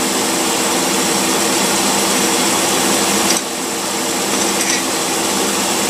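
A car engine with a two-barrel carburetor runs steadily during a test before a rebuild. It makes a loud, continuous roar with a brief dip partway through.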